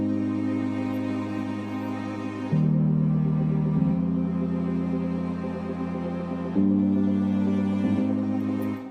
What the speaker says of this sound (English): So cello sounds like this